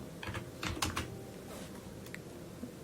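Computer keyboard typing on a Windows PC, a short run of light, irregular key clicks close by over a steady background hum, with no talking.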